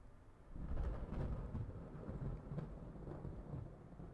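Thunderstorm in the fishing video game Cat Goes Fishing: a deep rolling rumble of thunder swells up and carries on steadily with rain-like hiss, fairly quiet and continuous, no voices.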